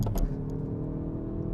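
A 2018 Hyundai i30 N hot hatch launches hard in first gear in N mode. Its engine roars loud and close in one sustained, rising drone after a brief burst at the start.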